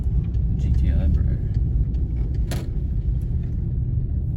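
Low rumble of a manual Volkswagen GTI rolling slowly with the clutch in during a driving lesson, a steady close engine and road drone with a faint creak, while people talk over it.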